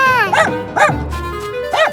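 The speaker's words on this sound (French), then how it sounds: "chien!" A cartoon dog gives three short, bright barks spaced about a second apart, loud and close, over faint background music.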